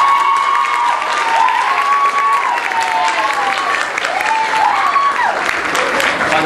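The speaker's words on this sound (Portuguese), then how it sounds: "merece uma salva de palmas de todos" Sustained audience applause fills a fashion week show at a college event, dense and steady throughout with faint cheering and voices mixed in.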